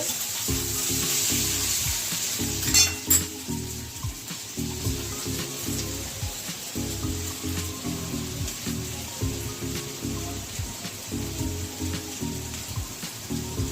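Snake gourd and potato fry in oil in a pan, a steady close sizzle broken by repeated scraping stirs of a spoon, with a brief clatter near the start and no talking.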